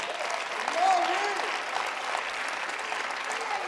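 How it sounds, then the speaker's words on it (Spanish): Sustained applause from a church congregation fills the space, even and continuous, with a brief tone or voice rising over it. "Dale un aplauso al Dios del cielo."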